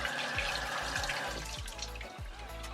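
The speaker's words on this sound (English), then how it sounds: "I'm gonna rinse it off." Hands rinsed under a running tap after lathering with a travel soap tablet, a faint continuous stream of water splashing into a sink with no talking.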